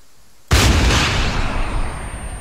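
A single heavy gunshot or blast in the video game ArmA goes off suddenly after a quiet moment, then a long booming echo tails away over the next two seconds.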